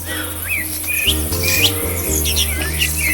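Several birds sing and chirp in a forest at dusk, clear whistled and sliding calls over a low steady hum, with short pulsing tones joining partway through.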